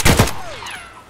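Gunfire in the shooter game Escape from Tarkov: two sharp, loud shots in quick succession, followed by a fading echoing tail and faint whistling as the sound dies away, with no talking.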